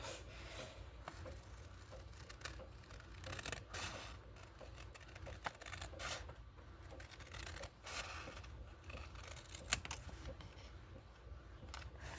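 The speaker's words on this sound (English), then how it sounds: "We're going to cut the top off here. And then we're going to cut the bottom off." Scissors trim the top and bottom off paper while making mini window envelopes, close, quiet crisp snips and rustling handling noises repeating irregularly with no talking.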